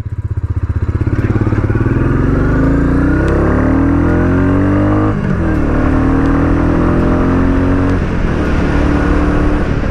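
A Royal Enfield Meteor 350 motorcycle pulls away from a standstill, its exhaust thumping loud and close as engine pitch climbs through several gears with brief dips at each shift, steady rising drone throughout.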